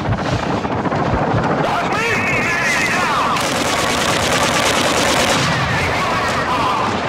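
Rapid automatic gunfire from Call of Duty DMZ rattles in loud, sustained bursts over a rushing, wind-like background, with a voice talking over the shooting.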